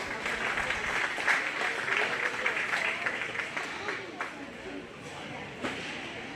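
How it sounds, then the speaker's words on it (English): Audience applause at a county fair livestock show after a champion Tamworth pig is announced, a steady patter of clapping for several seconds that eases off toward the end, with some crowd murmur mixed in. "Let's give him a nice round of applause."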